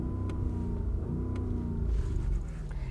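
A 2021 Audi RS Q8 with 600 PS rumbles close by as its engine is given light throttle, a deep, steady revving swell with no talk.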